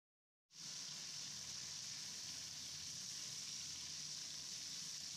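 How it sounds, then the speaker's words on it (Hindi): Onions and green chillies frying in oil in a kadhai wok, a steady loud bright sizzle that starts abruptly and continues evenly, with no talk. "अब यहाँ पर 1 मिनट इसको भून लेंगे।"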